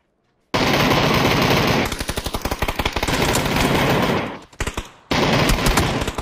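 Rapid automatic gunfire in a shooting video game, loud, close bursts of shots that run almost without a break, pause briefly, then start again, with no voices over it.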